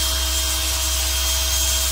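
A drill boring steadily into a mortice lock, guided by a drill template during a locksmith training demo, gives a constant close, loud grinding whir with no pauses or speech.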